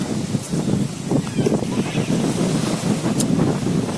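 Surf washing onto a beach in Italy, a continuous close rumble of breaking waves mixed with gusty wind buffeting the microphone, with no clear words.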